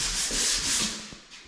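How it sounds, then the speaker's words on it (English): Steady abrasive rubbing of sandpaper on drywall, a hissing scrape in broad sweeps, close and loud, tapering off at the end. "he's in here doing all the sanding"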